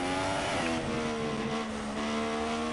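Race car engine from the F1 2016 video game, a steady high-pitched whine with a sustained tonal drone and slight pitch shifts, loud and continuous with no talk.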